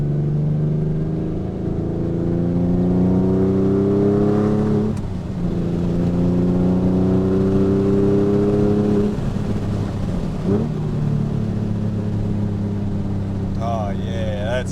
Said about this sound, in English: Oh, it had a nice pop when I came back on throttle right there.